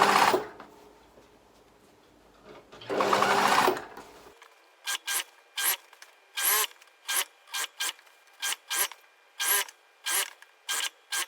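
A sewing machine stitches binding onto a Felix jacket, first in two longer runs, then in a series of short, evenly spaced bursts with quiet gaps between them.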